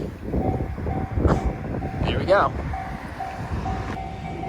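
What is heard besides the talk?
Narita Express train passing a railroad crossing in Japan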